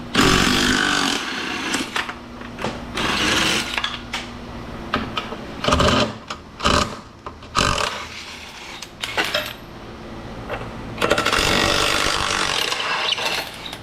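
A hydraulic cutter chops apart massive old metal light fixtures for scrap, loud repeated crunching and snapping bursts with short pauses between cuts, close by.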